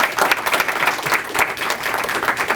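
Applause for a physician nominee at a Physician of the Year awards announcement, a group clapping steadily with a slightly uneven, fluttering rhythm at moderate loudness.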